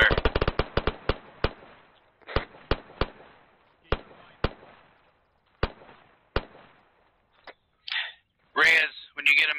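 Sharp, distinct rifle shots during army training covering fire, fired singly and in quick clusters at a moderate distance outdoors, with shouted talk near the end.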